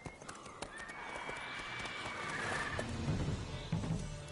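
Roach the horse in The Witcher 3 whinnies and clops its hooves, a rising neigh followed by a few hoofbeats and snorts, mid-distance amid game ambience.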